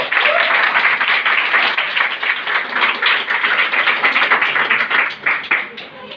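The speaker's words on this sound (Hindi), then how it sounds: "जोरदार तालियां इनके लिए।" Loud, dense audience applause at an event about earning money through Modicare, sustained steadily for several seconds with many hands clapping at once and no talk over it.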